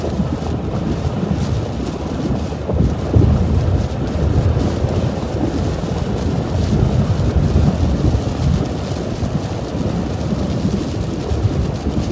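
Strong wind from a December derecho storm in Iowa roars and buffets a microphone outdoors, a dense, low rumbling gust noise that surges and pulses continuously throughout, loud and close with no voices.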